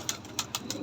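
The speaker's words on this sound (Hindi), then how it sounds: "ये देखें जी, ये सब कबूतर आ रहे हैं बाहर।" Domestic pigeons give soft, close coos in a few quick, evenly spaced pulses in a short, quiet burst.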